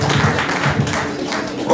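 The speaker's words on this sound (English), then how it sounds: "Give them a big round of applause." A live audience applauds a band, a dense, steady wash of many hands clapping close by for the whole stretch.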